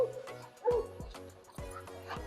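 Dogs play at a dog park, giving soft yips, whimpers and short growly barks in quick irregular bursts, fairly distant and quiet against outdoor background noise.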